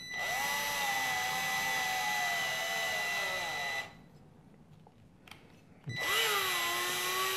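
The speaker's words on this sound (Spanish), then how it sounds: "Y si no, agarramos el taladro y de forma lenta lo introducimos." A power drill whines steadily at close range as it is slowly driven into wood, stops for a couple of seconds, then starts up again and keeps running.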